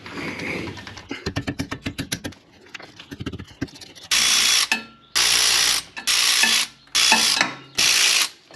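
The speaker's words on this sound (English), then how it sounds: "holding this axle in place for us so that we can crack loose these bolts" Ratchet wrench loosening axle bolts on a Porsche 944 rear hub: a fast run of close ratcheting clicks, then five loud, evenly spaced bursts of ratchet noise separated by short pauses.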